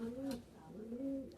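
Pigeon cooing from a loft of fancy pigeons in Naihati, North 24 Parganas: two low, rolling coos in quick succession, close and clear, with a short sharp noise at the end.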